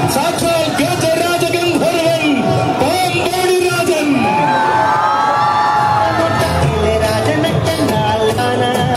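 A large crowd at an elephant festival gathering roars, cheers and whoops loudly and continuously, with shouting children and overlapping voices close by.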